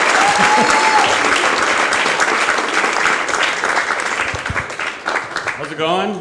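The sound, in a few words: comedy club audience applauding comedian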